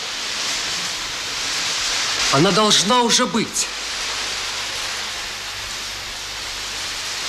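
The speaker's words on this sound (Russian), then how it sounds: "Какой дождь!" Steady broadband hiss of rain runs throughout, with a voice speaking briefly over it in the middle.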